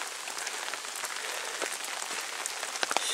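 Rain falls steadily outdoors on a hillside path among blooming cherry trees, a dense, even hiss of drops close around, with a few sharper drips near the end and no talking.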